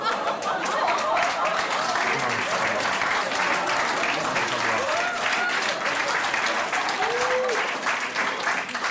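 An audience claps in a dense, continuous burst of applause, with voices and a little laughter mixed in underneath.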